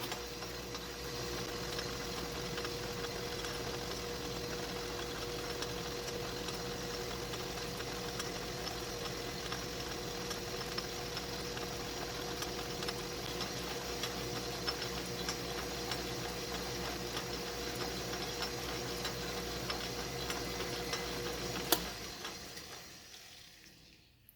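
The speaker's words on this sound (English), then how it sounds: "I know I can use this parting tool on this aluminum because this is not hardened aluminum." Lathe parting tool cutting off an aluminum gear blank for a Narco radio detent gear, with a steady machining hum and faint ticking that runs evenly throughout before stopping abruptly near the end.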